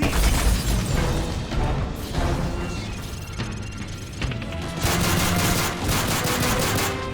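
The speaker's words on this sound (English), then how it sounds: "Then you hear some gunfire." Rapid bursts of automatic gunfire in a Call of Duty: Modern Warfare 3 video game crackle and pop repeatedly, with dense volleys, brief lulls, and heavy booming hits throughout.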